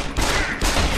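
Enemy gunfire in the video game Deus Ex: Human Revolution, The Missing Link, comes as a dense, loud burst of shots that fills the whole second, with a brief dip partway through before the firing resumes.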